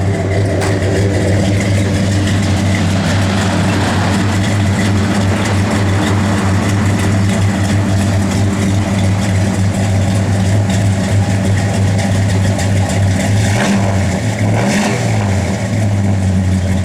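A 1965 Plymouth Satellite engine idles loudly and close by, a deep steady rumble with a slight lumpy pulse throughout.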